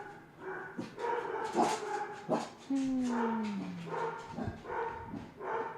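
A dog barks several times in short sharp bursts, with a drawn-out whine in the middle, under and between bits of conversation in a room.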